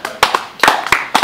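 Scattered audience members at a political speech in Michigan clap in a few sharp, separate claps, sparse and uneven rather than full applause.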